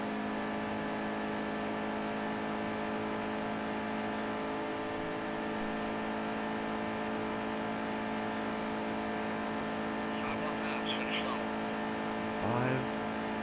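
Race car engine in a NASCAR truck racing video game at Daytona, a steady droning hum held at constant pitch throughout, with a brief squeaky blip near the end.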